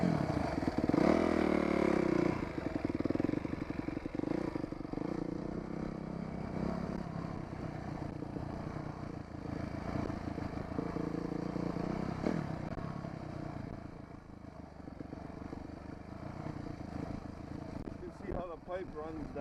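Dirt bike engine putters and revs as the rider heads down a valley trail in central Oahu, Hawaii, close and continuous with rattling clatter, dropping lower partway through.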